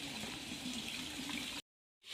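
A hose pipe held up high pours water for a cow, giving a steady rushing splash that runs for about a second and a half and then cuts off abruptly.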